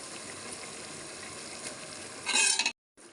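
Spiced chicken with salt and lemon juice being stirred and mixed in a pan, a steady close scraping and wet churning that swells louder near the end before stopping abruptly.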